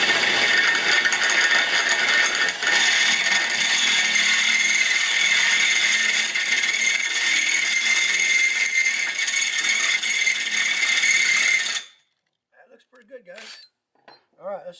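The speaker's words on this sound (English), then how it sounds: "We're going to take the Harbor Freight drill and drill through the" A loud, steady grinding whine of a power drill with a Harbor Freight titanium oxide bit biting through metal with a faint rattle, running continuously for about twelve seconds before cutting off to brief talk.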